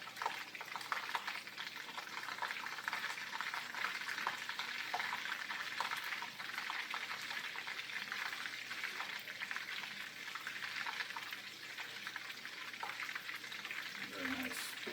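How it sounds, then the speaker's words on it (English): Pasta is stirred and broken up in a boiling pot of water, a continuous bubbling and sizzling hiss with faint scraping, steady and close throughout, ending with a brief clunk. "Break this pasta up a little bit."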